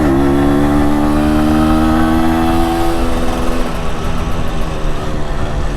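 An MZ TS125 two-stroke motorcycle cruises at around 45 mph with a close, buzzing engine note, the pitch holding steady and then easing off, heavily mixed with wind rush.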